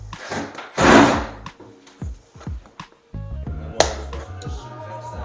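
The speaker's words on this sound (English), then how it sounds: "I'll score the rest, snap it, and should be good to go." A scored floorboard snaps with sharp woody cracks and thunks, repeated several times close by amid handling noise.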